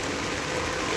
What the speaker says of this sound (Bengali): আজকে সকাল থেকে অনবরত বৃষ্টি হয়ে চলছে।